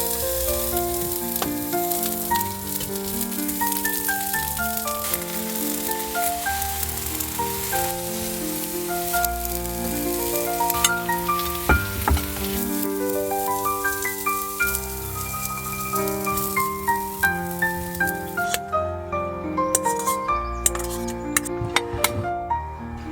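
Food sizzles steadily in a dry pan with no oil, with occasional light clinks, while music plays over it for the whole stretch.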